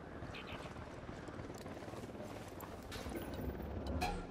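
Helicopter in the video game Ghost Recon Wildlands, a continuous low rotor rumble and chop running under the game soundscape, growing slightly louder toward the end.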